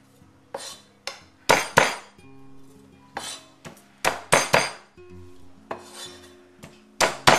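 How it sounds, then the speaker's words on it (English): A cleaver whacks peeled garlic cloves on a chopping board in a home kitchen, a series of sharp, close thuds and clacks in irregular bursts with brief pauses between strikes, no talking. "you take your cleaver, put it on there, smash them"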